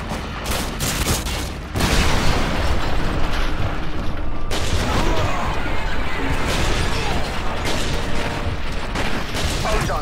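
Grenade blast and sustained gunfire in the Modern Warfare 2 video game, a sudden loud burst followed by continuous dense firing and crashes that fill the whole stretch, with a voice briefly heard.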